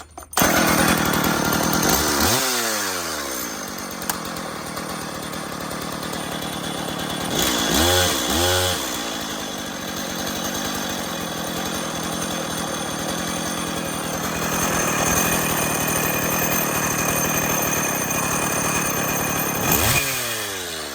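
A Stihl MS 170 chainsaw with an upgraded adjustable carburetor runs loud and close, a buzzing two-stroke drone with several sharp revving surges that rise and fall throughout.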